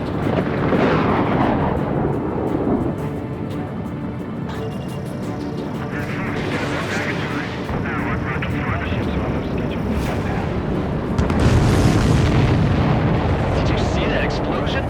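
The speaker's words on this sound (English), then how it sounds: "Did you see that explosion?" Deep, rumbling explosions and booming blasts in the aerial combat game Ace Combat 7: Skies Unknown roll on continuously, loud and heavy, with a swell of louder impact near the end.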